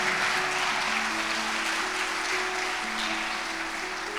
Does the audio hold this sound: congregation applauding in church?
yes